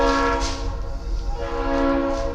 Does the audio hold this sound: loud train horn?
yes